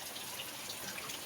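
Tap water runs steadily while freshly cut fish are washed, giving a close, even hiss and splash with no voices.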